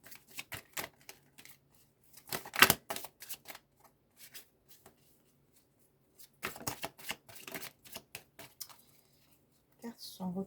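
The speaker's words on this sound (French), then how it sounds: "Les cartes sont retournées" Tarot cards are shuffled and flipped over during a reading, giving quick close rustles and slaps that come in bursts separated by near-silence, with one sharper snap partway through.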